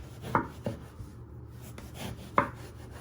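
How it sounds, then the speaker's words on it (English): Knife chopping vegetables for ratatouille on a board: two clear separate chops about two seconds apart, with a couple of lighter taps between, close and fairly quiet, no talking. "you just want to chop it or slice it into pieces. Just go through the knife."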